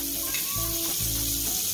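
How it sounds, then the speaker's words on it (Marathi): A spoonful of butter sizzles in a hot pan on a gas stove while beetroot soup is being prepared, a steady continuous frying hiss, close and moderately quiet, with no talking. "गॅसवरती पॅन ठेवलेला आहे, यामध्ये मी 1 मोठा चमचा बटर घालून घेते."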